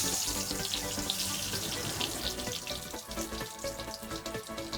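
A bay leaf dropped into hot oil left over from frying fish, giving a dense, steady hiss and crackle of sizzling heard close and without pause.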